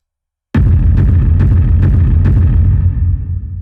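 A distorted mono kick rumble run through an amp bursts in after a short silence, a loud, gritty low boom with four to five pulsing hits before it tapers off.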